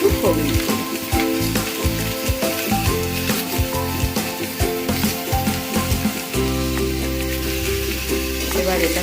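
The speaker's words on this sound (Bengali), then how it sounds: "এবার এটাকে আমি একটু ভালো করে নাড়াচাড়া করে সুন্দরভাবে একটু ভেজে নেব সবজিগুলো।" Mixed vegetables seasoned with salt and turmeric sizzle and fry in a pan, a busy crackling hiss with stirring scrapes, heard under steady tonal background music.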